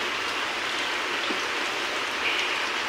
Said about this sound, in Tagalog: Ganito kahirap yung sitwasyon dito pag malakas yung ulan.